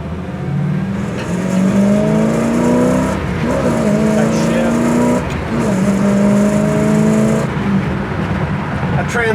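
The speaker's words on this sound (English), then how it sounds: "It's got a great idle to it, don't it?" A 1967 Chevy Camaro engine idling and revving, a loud steady rumble with rising and falling engine tones in bursts, with people talking faintly over it.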